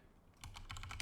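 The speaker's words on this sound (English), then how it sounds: "Now I'm going to right click and type" Quick burst of typing on a computer keyboard, several close, light key clicks in rapid succession after a brief quiet moment.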